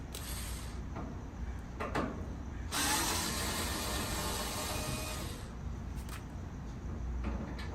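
A screwdriver backs screws out of the interior light bracket on a Kenmore Elite dryer, giving soft clicking, ratcheting and creaking with one longer grinding turn near the middle, close and fairly quiet, without talk.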